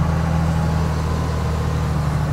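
An empty truck is on the move, its engine giving a steady low drone with a constant hum and road rumble throughout, close and even, with no voices.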